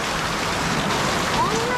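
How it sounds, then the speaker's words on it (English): Heavy rain pouring outdoors at a Filipino street barber's spot, a dense, loud, continuous hiss throughout. "Wow, look at this rain, guys."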